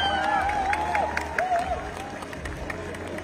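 An audience at a fashion show applauds designers from Assam, with a dense patter of clapping, scattered cheers and crowd murmur running throughout, mixed with a faint melodic tone.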